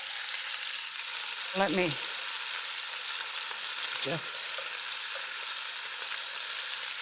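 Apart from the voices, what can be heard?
beef rolls sizzling while browning in a pan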